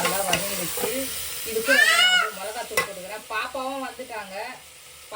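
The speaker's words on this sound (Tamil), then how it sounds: "ஃபுல்லாக காய் எண்ணெயிலேயே வதங்கணும் எண்ணெயில் வதங்கினதுக்கப்புறம் நம்ம மிளகாத்தூள் சேர்த்துக்கலாம்" Vegetables with tomato sauté in oil in a home kitchen pan, with a soft sizzle and scraping stirs. A voice briefly sounds near the middle, and the sizzle fades lower toward the end.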